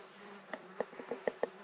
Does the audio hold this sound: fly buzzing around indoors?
yes